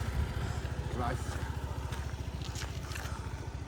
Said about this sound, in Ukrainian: Такий тихенька робота двигуна, м'якенька.